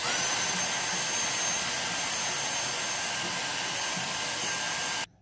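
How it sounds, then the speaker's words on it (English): Close, loud vacuum cleaner drawing air through a PS4 controller as dirt is sucked out from around a sticking analog stick, giving a steady high-pitched whine over a constant rushing roar that cuts off abruptly at the end. "So what I did was I basically just hoovered inside this"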